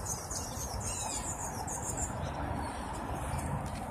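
Pigeons and small birds outdoors chirp and twitter in thin, high calls over a dense, steady wash of outdoor background noise, with a possible soft flutter of wings.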